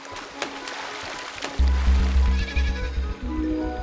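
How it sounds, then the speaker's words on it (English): Sheep in the meadow of the video game Sword & Sworcery bleat in short cries over a soft ambient backdrop, followed by deeper plucked musical tones from the game's score. "We spied a few worthless sheep lazing around in the meadow."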